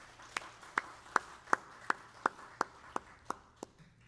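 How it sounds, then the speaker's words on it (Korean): Slow, regular single claps, about ten evenly spaced hits, sound in a quiet church hall as a pastor's wife is welcomed, with no broad crowd applause behind them. "역시 박수로 환영해 주시기 바랍니다"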